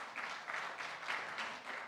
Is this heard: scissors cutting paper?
no